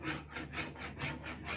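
Rub-on transfer being burnished onto a wooden dresser, a soft rhythmic scraping of about three back-and-forth strokes, close and quiet.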